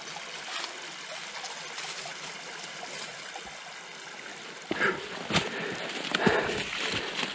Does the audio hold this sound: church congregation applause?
no